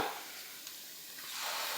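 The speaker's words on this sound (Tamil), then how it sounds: "பூண்டு சேர்த்து லைட்டாக பரட்டி விட்டுருங்க" Soft, steady sizzle of garlic frying lightly in oil, faint and continuous, with a light clink near the middle and a slight swell toward the end.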